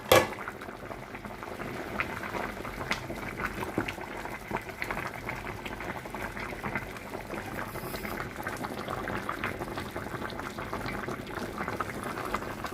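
Green peas boil in a pot on the stove, giving a continuous close bubbling and simmering with a steady hiss and small pops throughout, and no talking.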